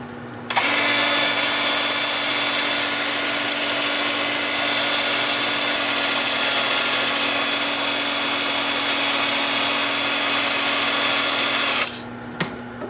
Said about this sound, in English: I'm sanding in reverse at 350.